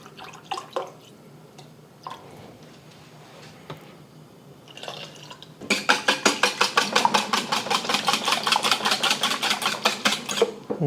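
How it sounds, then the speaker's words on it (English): Quiet kitchen clatter gives way to a steady stream of water pouring into a bowl of egg mixture, bubbling and splashing close by for several seconds. "I'm gonna pour that into the egg mixture"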